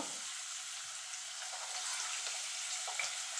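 Carrots and beans frying in oil in a home kitchen, a soft steady sizzle with faint crackles, quiet and close, without talk.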